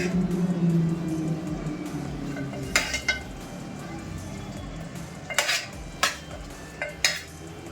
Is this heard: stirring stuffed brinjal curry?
yes